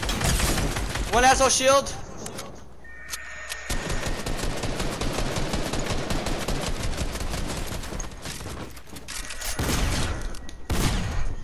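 Rapid Fortnite gunfire rattles in dense automatic bursts through most of the stretch, loud and close, with a few sharp single shots near the end while players talk excitedly over it.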